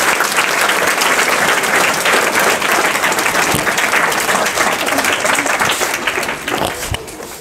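A school audience gives loud, sustained applause to welcome the MD and the principal at a morning assembly, a dense, close roar of clapping that keeps going for the full stretch and eases off slightly near the end.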